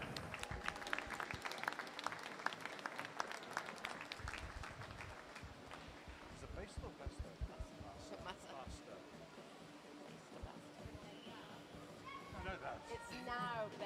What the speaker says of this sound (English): Can we give a big round of applause for our organizer, Tom